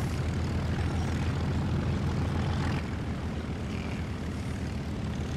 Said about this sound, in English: Hear those nice engines rumbling.